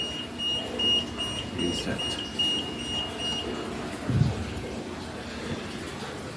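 A high, piercing electronic fire alarm tone sounds in pulsing bursts during a weekly sprinkler system test, then cuts off as it is reset; a single voice speaks briefly over low room noise.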